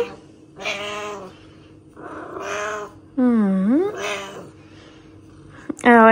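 A domestic cat meows indoors in an apartment, one drawn-out, rising-then-falling meow standing out clearly, while someone talks to it softly around the calls and seems to imitate its meowing.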